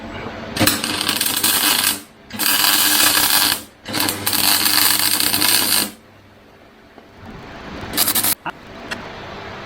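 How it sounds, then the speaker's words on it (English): Tack welding a motor mounting plate for a motorized skateboard engine swap, several bursts of harsh crackling buzz, each lasting a second or two and separated by short pauses, loud and close. "tack weld this onto here."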